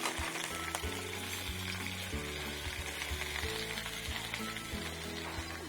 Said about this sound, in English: The chicken wings will be frying for more than like 7 minutes